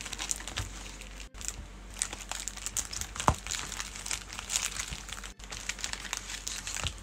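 A stack of trading cards being shuffled, with soft, steady crinkling and riffling bursts close by, fairly quiet, with no voices.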